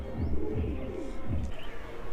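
A red-coloured pigeon on a rooftop cooing softly, with a couple of low rolling coos close by and faint background noise.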